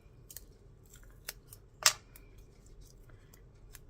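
Scissors make a single crisp snip through craft material for a mixed media project, a short sharp cut standing out against quiet handling noises, close and fairly faint.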